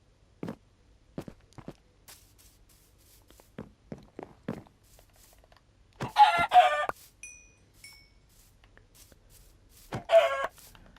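Minecraft chickens in a blocky forest, two bursts of clucking several seconds apart, with a series of soft footsteps on the ground before and between them.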